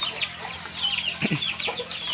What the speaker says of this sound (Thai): ไก่ก็น่าจะมีเป็นเป็นร้อยเนาะ